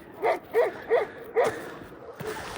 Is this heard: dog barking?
yes